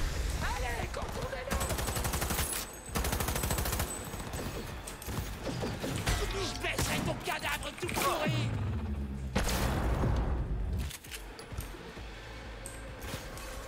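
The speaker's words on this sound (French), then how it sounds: "ce fusil à pompe là il a quand même bien changé hein" Pump-action shotgun blasts and mechanical pump clacks in Cyberpunk 2077, loud repeated gunfire bursts amid dense game sound, with someone talking over parts of it.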